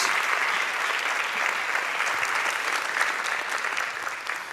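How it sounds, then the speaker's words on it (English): A summit audience breaks into sustained applause, a thick, even wash of many hands clapping at once that stays loud and steady throughout, with no speech over it. "Let's give them a round of applause."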